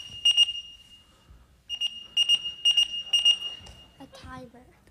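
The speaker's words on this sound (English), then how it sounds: "A timer." Timer alarm ringing, a shrill electronic beeping in rapid bursts: one cluster, a pause, then three more clusters, fairly close, followed by someone speaking briefly.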